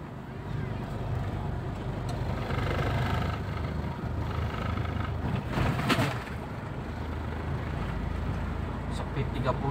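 Toyota Fortuner with a sluggish engine tuned by Blackcore, pulling in fifth gear: a steady, loud low engine drone with road and wind rumble that swells slightly around mid-clip, continuous throughout.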